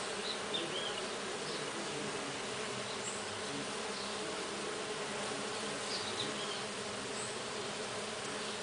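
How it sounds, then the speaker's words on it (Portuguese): Melipona stingless bees work the flowering ora-pro-nobis blooms, with two or three bees to each flower, making a dense, continuous, fairly quiet buzz that holds steady without pauses. "Ah, deve ter duas, três abelhas para cada flor."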